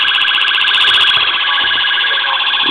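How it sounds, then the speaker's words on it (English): A loud electronic siren from a custom 1:18 scale model Ford Crown Victoria police car, Kansas City Police Department livery, wails steadily then switches to a different warbling tone partway through, close and alone. "You'll hear the siren change tones there."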